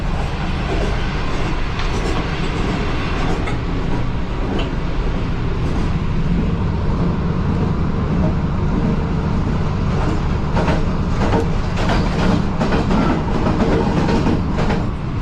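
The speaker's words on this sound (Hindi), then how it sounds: "यानी मदरा स्टेशन से गुजर रहे हैं हम।" Train passing through a railway station, heard from inside a guard compartment as a steady loud rumble with clickety-clack wheel beats that quicken in the second half, close and continuous, with no talk.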